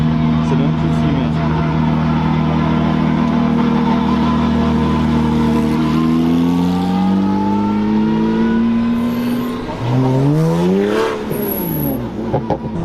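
A Ferrari sports car at the Carburacoeur 2024 car event roars close by, its engine note climbing and falling through gear changes as it passes, then revving sharply again near the end.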